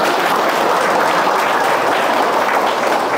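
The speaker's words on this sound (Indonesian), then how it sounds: "Tepuk tangan yang suka mabuk." An audience applauds at a church gathering led by a bishop, a dense, steady wash of clapping that holds evenly loud throughout without a break.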